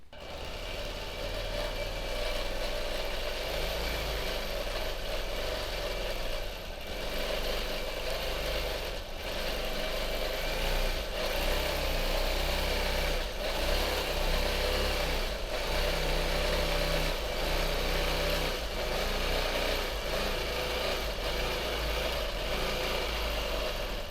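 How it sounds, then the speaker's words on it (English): A quilting machine stitches a free-hand feathered heart without stopping, giving a steady mechanical hum with faint rhythmic pulses that runs continuously throughout. "I'm going to quilt the first half of this feathered heart without stopping."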